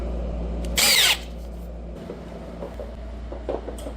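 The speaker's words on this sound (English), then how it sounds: "drill the holes, get it fitted up." A power drill bores holes in a steel kickstand for a 1970s Honda CL350 café racer, a loud high whine lasting about a third of a second, followed by softer workshop clatter over a low mains hum.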